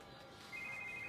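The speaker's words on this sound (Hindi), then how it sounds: "लगता है आत्माराम जी का मोबाइल आ रहा है।" A mobile phone rings with a steady electronic ringtone that starts about halfway through, fairly faint against background noise.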